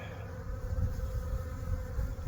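Honeybees at the hives in a bee yard on a warm January day, carrying in artificial pollen, make a steady, close buzzing hum. It drones continuously with slight swells as individual bees pass near, and no one speaks.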